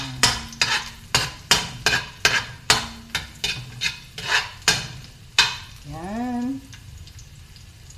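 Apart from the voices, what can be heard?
garlic browning and being stirred in a pan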